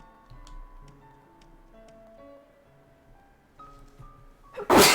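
A single loud sneeze bursts out at the very end, following a stretch of soft ticking and quiet background tones.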